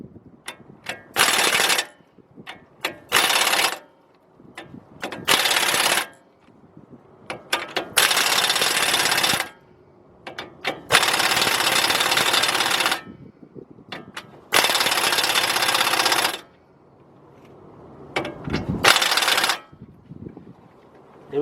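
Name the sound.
tightening front hub nut on 2003 Chevy Trailblazer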